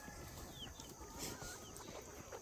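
Farmyard chickens cluck and murmur softly at a distance, scattered calls over a quiet outdoor background, with no one speaking.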